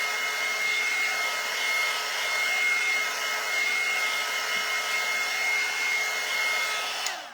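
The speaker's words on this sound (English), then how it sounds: "I know you guys are tired of hearing that dryer" A hair dryer blows steadily to dry craft paint on an Easter flower box, a loud, even whooshing roar with a constant high whine that runs unbroken and close before cutting off at the end.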